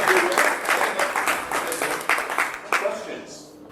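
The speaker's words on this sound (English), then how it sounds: "More round of applause for that quick overview." An audience at a presentation on a city lot give-away program breaks into steady applause, many hands clapping densely and close for several seconds before it thins out.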